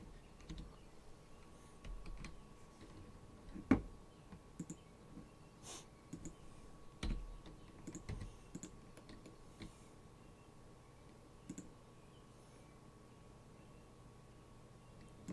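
Shift-clicking on a computer keyboard: faint, sparse clicks and taps scattered irregularly across a quiet room hum, a couple of them sharper than the rest.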